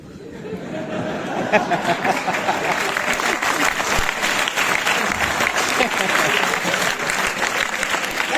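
Sustained audience applause at a Hindi kavi sammelan poetry recital, a dense steady clatter of many hands clapping throughout, with light crowd chatter and a few chuckles mixed in.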